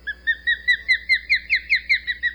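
An osprey calling up close: a series of about ten clear, rising whistled chirps in a steady rhythm, loud against a quiet background.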